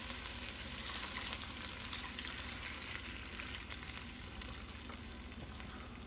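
Vegetables sizzle hard in a hot pan alongside oxtail in sauce, a loud, dense, steady frying hiss that holds unbroken throughout with a faint stirring scrape beneath.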